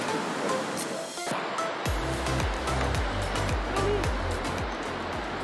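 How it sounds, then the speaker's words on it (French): Krimml Waterfalls in Tyrol, Austria, the country's highest at 385 metres in total, pour in a continuous loud rushing roar, joined partway by low rhythmic rumbling pulses. "Les cascades de Krimmel sont les plus hautes cascades d'Autriche, avec une hauteur totale de 385 mètres."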